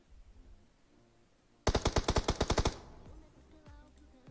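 Rapid video game machine-gun fire, a burst of about ten loud evenly spaced shots lasting around a second, followed by quieter scattered in-game sounds.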